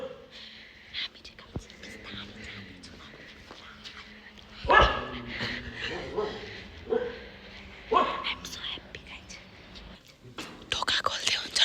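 A dog barks in short, sharp bursts at a home birthday gathering, loudest around the middle and again near the end, with soft whispering and household movement underneath.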